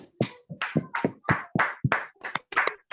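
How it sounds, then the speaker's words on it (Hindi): Sparse, distinct claps ring out at a public speaking event, about a dozen sharp hits in quick, slightly uneven rhythm, close and fairly quiet, like a small audience. "दोस्तों जोरदार तालियां सन्मुख पटेल जी के लिए"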